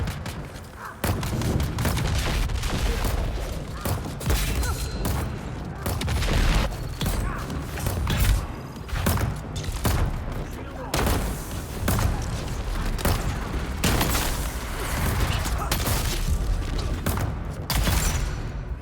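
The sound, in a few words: Disruptor Pistol gunfire in a fight, from video game Dune Awakening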